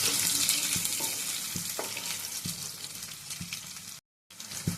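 Onions, mustard seeds, cumin and green chillies sizzle in hot oil in a pan, a steady close crackle with a few soft clinks and a brief break in the sound near the end.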